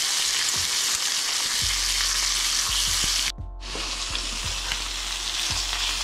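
A rainbow trout fries in a pan with a loud, continuous close sizzle, broken by soft periodic ticks and a brief dip where the hiss cuts out for a moment before resuming.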